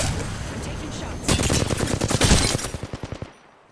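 Rapid automatic gunfire in the video game Apex Legends during a squad fight, a loud dense burst that trails into separate spaced shots before cutting off, heard close and alone.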